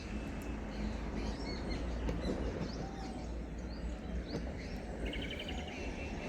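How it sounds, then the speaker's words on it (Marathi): Birds chirping and calling on a morning in Konkan, thin repeated tweets above a steady low rumble of background noise, moderately loud throughout with no talk. "बघा पक्ष्याचा आवाज ऐकतोय गाईज सकाळ सकाळच."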